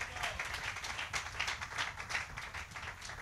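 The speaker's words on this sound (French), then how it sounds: "Donnez-lui une main d'acclamation." A church congregation gives a round of applause during a French sermon, fairly quiet, uneven clapping with distinct hand strikes pulsing through it, rather distant and without speech.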